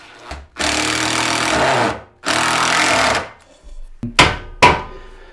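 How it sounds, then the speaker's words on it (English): Power screwdriver driving a single screw into a timber rafter beneath attic storage flooring, two long loud whirring bursts followed by a pause and two short sharp final bursts, close and alone. "we'll just put 1 screw in to show you how that works"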